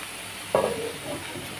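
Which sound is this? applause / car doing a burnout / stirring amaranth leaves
stirring amaranth leaves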